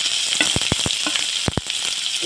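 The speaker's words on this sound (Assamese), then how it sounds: "এইখিনি ৰঙচুৱা হোৱালৈকে মই ভাজি ল'ম" Chopped onions frying in oil with a dried red chili and two bay leaves, a steady close sizzle with a few sharp spatula or pan clicks scattered through, no voices.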